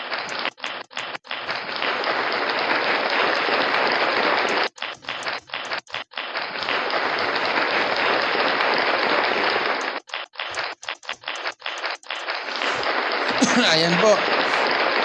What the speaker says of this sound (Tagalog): Bigyan po natin ng 100 palakpak.